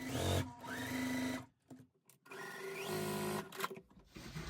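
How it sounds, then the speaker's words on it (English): A sewing machine stitches quilt block pieces in two steady whirring runs, close and loud, separated by a brief pause, with no talking. "then we need to sew on each side of that line"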